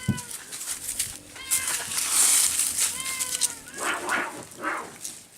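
Cats at a cat sanctuary yowl and snarl at each other while fighting over chicken, in a series of rising, wavering cries, close and fairly loud, with a scuffle of movement underneath.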